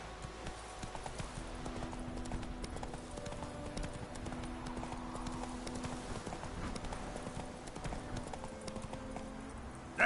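Roach the horse from The Witcher 3 galloping, with a steady, rapid clip-clop of hooves that continues the whole time under quiet game music.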